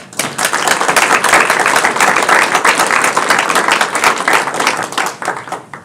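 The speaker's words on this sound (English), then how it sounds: "let's have a round of applause for Kira." Sustained applause from a conference audience, dense crowd clapping holding steady at full volume for several seconds before easing off at the end.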